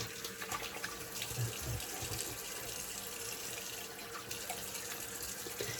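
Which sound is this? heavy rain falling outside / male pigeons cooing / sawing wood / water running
water running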